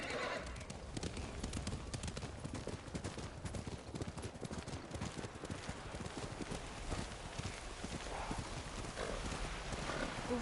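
In the video game Ghost of Tsushima, a horse's hooves clip-clop steadily through snowy weather, with whinnying and a dense background of wind and ambient noise, fairly loud and close.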